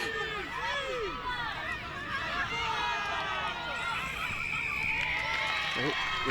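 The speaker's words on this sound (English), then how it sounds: "Big cheer from the sub box too" Cheering from the substitutes' box at an open women's touch rugby round-robin match in Whakatāne, a steady crowd roar and chatter running throughout, with shouting voices rising over the field noise.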